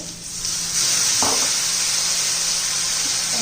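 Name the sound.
water splashed into sizzling frying pan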